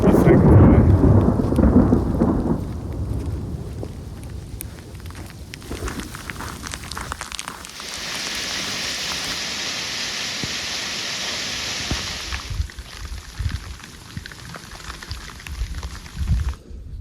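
A thunderstorm with pouring rain in a remote canyon opens with a loud rolling thunder rumble, then settles into steady heavy rain hiss and patter that swells midway and continues to the end.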